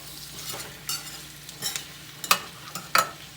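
Potatoes fry in oil tempered with cumin, sesame, crushed green chillies and curry leaves; a soft background sizzle sits under several sharp, close spoon scrapes and clacks that come in irregular bursts, with no talking.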